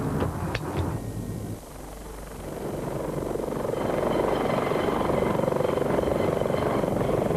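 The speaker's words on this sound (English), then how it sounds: "It was a half-hour helicopter journey for us to Bannesson in the west of Mull" Helicopter in flight on a half-hour trip from a Glasgow helipad to western Mull, a steady loud rotor and engine roar that builds after a brief dip and holds on evenly.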